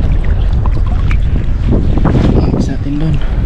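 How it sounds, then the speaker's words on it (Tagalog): Strong wind roars across the microphone at sea with heavy rushing gusts and the wash of choppy whitecapped water, loud and continuous, with a voice talking underneath. "Napakaalon ng hangin, puting puti yung alon tsaka ang lakas ng hangin"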